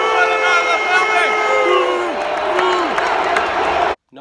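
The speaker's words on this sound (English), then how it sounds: "Oh man, they are booing him out of the building!" Stadium crowd at a 2017 Vikings vs Saints NFL game loudly booing Adrian Peterson in a Saints uniform, a dense sustained roar with voices and whoops throughout, cutting off abruptly near the end.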